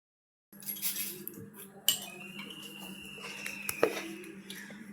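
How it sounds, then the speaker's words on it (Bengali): A knife slicing set pudding into cake shapes on a plate gives faint scraping and a couple of sharp clinks of metal on the plate, quiet and close, with no talking. "আমি কেক শেপে কেটে নিচ্ছি।"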